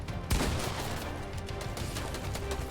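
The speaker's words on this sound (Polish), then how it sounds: "Musimy strzelić tutaj i strzelić tak." Rapid gunfire from a Fortnite match starts with a sharp close shot and runs into a quick, steady stream of shots and impacts lasting a couple of seconds.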